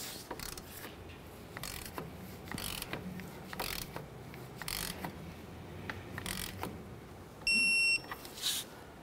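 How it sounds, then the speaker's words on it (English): A ratchet wrench clicks in a series of short bursts while torquing a tie rod castle nut on a 2004-2006 Scion xB. The clicking is close and fairly quiet, and a brief electronic beep sounds near the end. "torque it to 36 foot-pounds"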